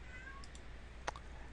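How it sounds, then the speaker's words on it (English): A cat meows once, short and faint, somewhere in the background of a quiet room, with a couple of soft clicks just before it. "that's my cat in the background"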